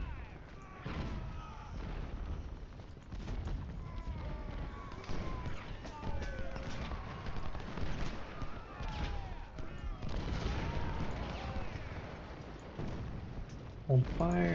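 Artillery fire in the Civil War strategy video game Ultimate General: Civil War, a muffled battlefield rumble of distant cannon booms and musketry under steady talk from a man.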